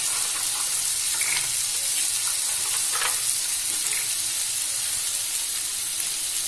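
Dhaba-style eggplant bharta masala fries in a pan with a loud, continuous, close-up sizzle and a few faint stirring scrapes.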